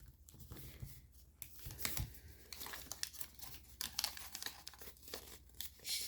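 Paper flap folded from corner to edge for an origami jet, soft close crinkling and rustling with short creases and slides, quiet and with no voice.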